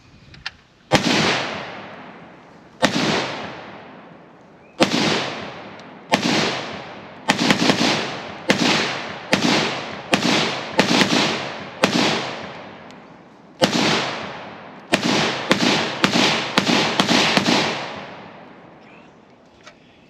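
A Swiss SIG SG552 Commando short-barreled rifle fired outdoors on a range, about eighteen sharp, loud single shots spaced irregularly at first and then faster, each with a short ringing decay and no talking.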